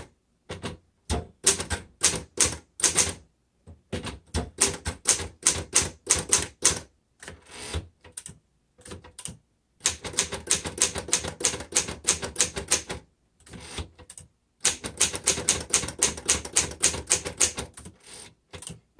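A 1947 Royal Upright Standard manual typewriter with glass and metal keys clacks loudly and close up in rapid bursts of keystrokes, separated by short pauses and occasional carriage-return sounds.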